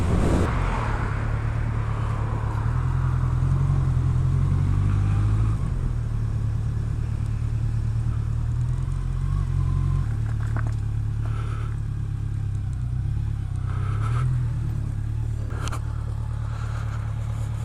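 Honda CB1100 retro motorcycle engine rumbling steadily at low revs while the rider pulls over, a close, even drone alongside wind and road noise, with no talk.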